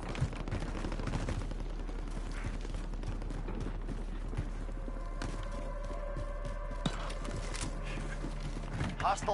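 Video game combat with rapid gunshots and bursts of machine-gun fire, mid-distance and fairly quiet, alongside game voice callouts and background battle noise.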